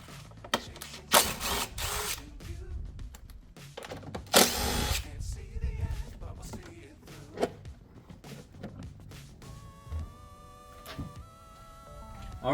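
A power tool briefly whirs in two short bursts while loosening 10 mm bolts in the engine bay of a Ford F-150 3.5L Tremor, with ratcheting clicks and workshop clatter between them.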